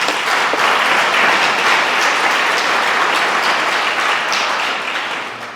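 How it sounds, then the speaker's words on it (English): A large audience applauds after a conference talk on Figma development, a dense, steady wash of clapping that stays loud throughout and eases off slightly near the end, with no voices over it. "Round of applause"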